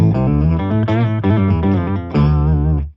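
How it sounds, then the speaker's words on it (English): Electric guitar run through an octaver pitch-shifter pedal on a cheap guitar amp, sustained chords with thick doubled low octave tones and slight distortion, loud and close, played alone in a few strummed bursts. "And this is actually one of the best pitch shifters or octavers I've ever tried."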